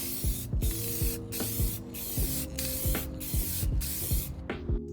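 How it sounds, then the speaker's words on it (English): Bursts of spray paint hiss in a regular rhythm as coats of color and clear are applied to steel sway bar mounting brackets for a Miata, each short spray pass loud and close. "Then I sprayed 3 coats of color, and finished up with 2 coats of clear."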